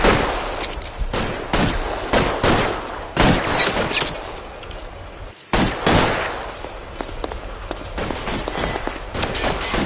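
A shootout in L.A. Noire: repeated loud gunshots and fast volleys crack close by in uneven bursts, with one brief pause midway before the firing resumes.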